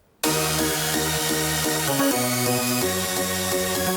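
Sustained synth chords play steadily with no LFO pulsing or wobble, the chord changing partway through, loud and continuous, in a dance track.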